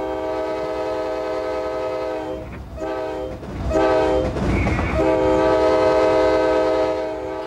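A CSX freight train on Florida trackage in 1995 sounds its locomotive horn in long sustained multi-tone blasts, broken by a brief pause, with rumbling rail noise beneath, loud and close.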